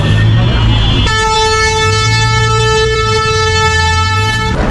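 Busy main road traffic in a city: loud engine rumble and a long, sustained horn blast from a close vehicle.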